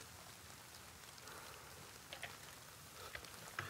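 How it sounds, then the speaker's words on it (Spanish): Steady rain hisses continuously in the video game DayZ, with a few sharper drip-like taps near the end, fairly quiet and even throughout. "Sí, está lloviendo."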